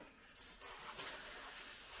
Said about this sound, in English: Now, just test spray, coming out nice and thin,